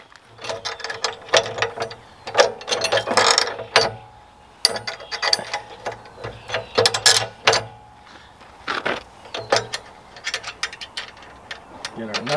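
A ratchet wrench runs lock nuts down onto bolts during an addition to a mill, giving bursts of quick clicking strokes across the clip, close and fairly loud with pauses between runs.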